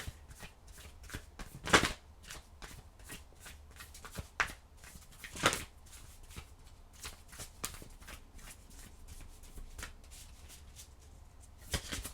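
Tarot cards are shuffled by hand in short crisp riffles and slaps, a few louder bursts among steady soft card flicks, close and alone.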